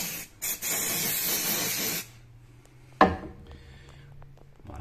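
A steam cleaner sprays a loud, broad hiss of steam for about two seconds in a bedbug treatment, then cuts off, followed by a sharp knock and a faint low hum in a quiet room.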